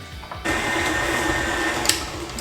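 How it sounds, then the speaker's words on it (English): An electric stand or hand mixer creams softened butter with sugar for mini chocolate chip muffins, switching on after a brief pause into a steady, close motor whir with faint rattling beater texture. "we're gonna need a stand mixer or a hand mixer, and we're gonna cream our butter with our sugar"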